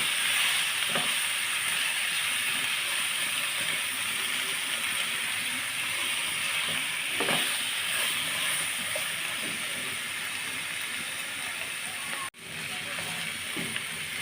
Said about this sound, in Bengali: মরিচের গুঁড়া দিয়ে নেড়ে চেড়ে আমি মশলাটা ভালোভাবে কষিয়ে নেব